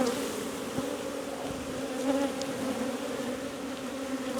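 A dense swarm of honey bees buzzes steadily at an open hive during a colony split, a close, continuous hum with no talking.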